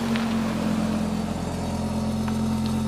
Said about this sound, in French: Avec l'échappement Miltech, elle fait un son de fou furieux.